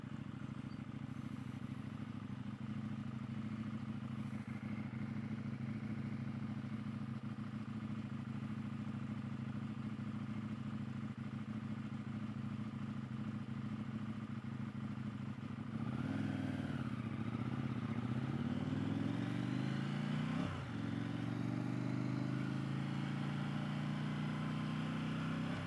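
A 2022 KTM 890 Duke motorcycle cruises with a steady engine drone, then the revs swing up and down through downshifts and engine compression braking, heard close from the rider's position with wind noise.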